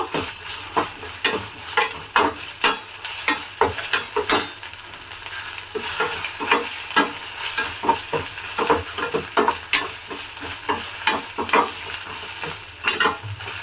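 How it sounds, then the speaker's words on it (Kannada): Masala with garlic paste fries in oil for an egg gravy, stirred with a spoon in rhythmic strokes. Each stroke scrapes the pan over a continuous close sizzle. "ಇದೆಲ್ಲ ಎಣ್ಣೆಲ್ಲ ಚೆನ್ನಾಗಿ ಫ್ರೈ ಆಗಬೇಕು, ಅವಾಗ ಚೆನ್ನಾಗಿರುತ್ತೆ ಟೇಸ್ಟು."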